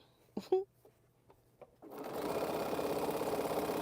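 A sewing machine stitches the final seam of a quilt, running steadily and close up after a few soft handling clicks and bumps, then humming without pause to the end.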